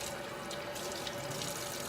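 Water runs steadily from a tap into a sink while hands are soaped and washed, a continuous close hiss and splash with no talking.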